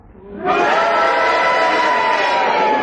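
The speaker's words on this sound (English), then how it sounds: "Yes, the cheers, Paddy, the cheers." A studio audience at a British radio panel show breaks into loud, sustained cheering and shouting that swells quickly and holds at full volume.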